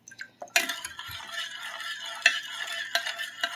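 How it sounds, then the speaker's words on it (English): Sugar being stirred into a tokwa't baboy sauce, a soft scraping swirl with a few sharper clinks of the spoon against the bowl, close and fairly quiet, with no voices. "And then give it a mix."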